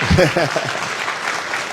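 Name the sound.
audience applauding sports coaches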